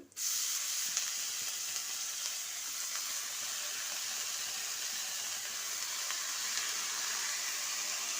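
Chopped amaranth leaves stirred in a hot frying pan, giving a steady, close sizzle and hiss that runs unbroken from start to end with faint scraping beneath.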